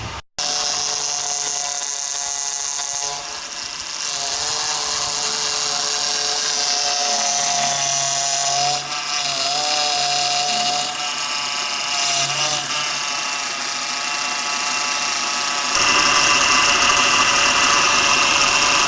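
A Honda power steering pump from a 1998–2002 model, freshly rebuilt, whines steadily and loudly with a shifting pitch as the wheel is turned lock to lock, the strain rising and easing over the engine's idle drone.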